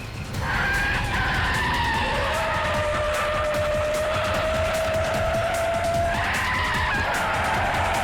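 A car skids and screeches through a chase scene in a CID episode, a long, loud tire squeal rising and falling over the roaring engine.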